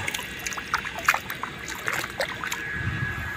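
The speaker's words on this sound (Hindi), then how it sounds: "ये यहाँ पे ट्यूबवेल लगा हुआ है, पानी चल रहा है" Water runs from a tubewell on a farm in Al-Kharj, Saudi Arabia, trickling and splashing close by in uneven bursts against a steady outdoor background.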